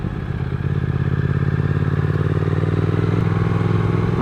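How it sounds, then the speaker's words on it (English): A 2021 Triumph Speed Twin motorcycle cruises in top gear on a freeway, its twin-cylinder engine holding a steady, throbbing drone with a rhythmic pulse, loud and close, along with some wind and road clatter. "I'm really liking the engine tone."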